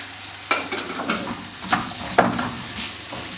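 Mushrooms fry over high heat in a pan for a white truffle cream pasta, giving a steady loud sizzle broken by periodic scraping stirs.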